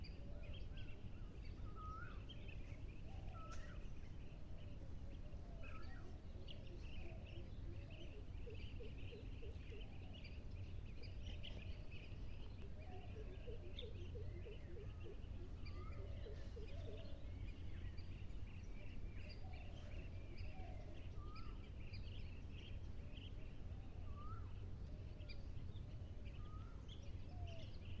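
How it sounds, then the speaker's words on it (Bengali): Birds calling in a riverside eco park: scattered faint chirps and short trilling calls from several birds at a distance, over a constant low background hiss, with no talking. "কি অসাধারণ লাগলো না পাখির ডাকগুলো"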